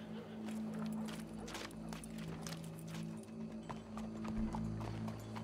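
Horse hooves clip-clopping in Red Dead Redemption 2, a steady walking rhythm of hoof falls over a low sustained hum, with an occasional faint whinny.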